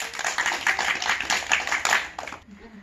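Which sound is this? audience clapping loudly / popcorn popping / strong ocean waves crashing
audience clapping loudly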